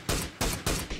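Three loud gunshots ring out in the battle royale game PUBG during a competitive esports match, sharp evenly spaced blasts with short decaying tails and no talk over them.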